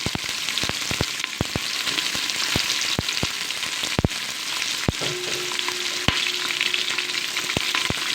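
Onions frying in oil for a mutton biryani give a steady, dense sizzle, broken by sharp knocks and scrapes of a spoon stirring the pan throughout.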